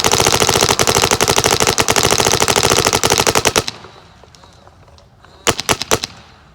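A rapid string of loud, close gunshots fired through a GoG Freak XL ACP muzzle tip, rattling off for about three and a half seconds, then a short pause before a second quick burst of several more shots.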